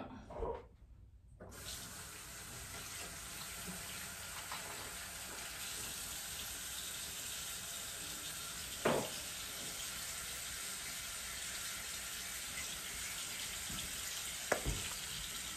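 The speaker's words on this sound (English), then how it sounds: "Now I'm gonna wash my hands really good to get this out." Hands being washed under a running tap in a home sink, a steady close hiss of flowing water throughout with a couple of brief splashes and knocks, no talking.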